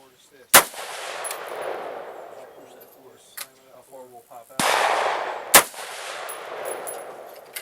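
Rifle shots ring out at an outdoor target range, three sharp cracks spread over several seconds, each followed by a rolling echo, with a voice talking between the shots.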